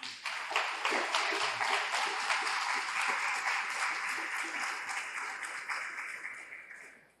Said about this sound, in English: I ask you to give yourselves and to give them another round of applause.